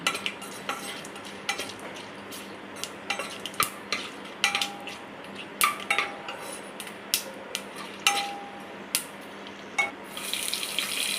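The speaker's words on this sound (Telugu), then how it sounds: "చెక్క నాలుగు లవంగాలు మూడు యాలక్కాయల్ని యాడ్ చేసుకొని లైట్గా గరిటతో తిప్పుతూ ఫ్రై చేసుకోవాలి" Cinnamon, cloves and cardamom are stir-fried in a pan for pudina rice, with a ladle clinking and scraping against the metal in uneven bursts over a low background hiss.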